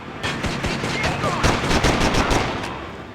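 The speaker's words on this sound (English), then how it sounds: "that guy actually had a shotgun" Rapid repeated gunshots in the video game Driver: Parallel Lines, a shotgun-armed enemy among them, sounding as a string of sharp close blasts that fades off at the end.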